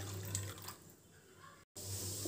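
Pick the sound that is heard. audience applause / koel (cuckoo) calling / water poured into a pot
water poured into a pot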